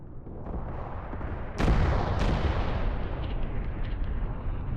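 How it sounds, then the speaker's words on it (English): Mortar rounds impact in the Mius Front war game, two heavy booming blasts a fraction of a second apart over a dense, continuous rumble of battle noise. "The mortar fire is impacting around here now"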